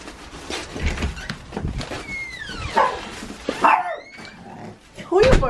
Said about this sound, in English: Who are you barking at, Miko?